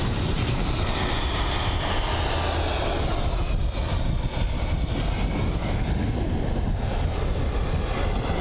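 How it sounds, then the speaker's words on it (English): An EasyJet Airbus A320-200 jet landing at Bristol Airport under low cloud: a loud, steady, broadband engine roar close by, holding constant throughout with a faint shifting whine and no voices. "So it's the EasyJet A320-200 arriving from Split."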